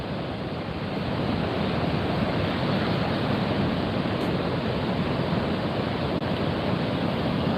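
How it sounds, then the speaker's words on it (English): Broad, steady roar of ocean waves breaking on a shore, continuous and loud with wind-like hiss, no talking. "There's some waves."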